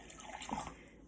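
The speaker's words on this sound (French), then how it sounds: "Donc, je mets un peu d'eau." Water trickles briefly into a measuring cup during a home titration experiment, a soft close pour that swells in the middle and fades within about a second.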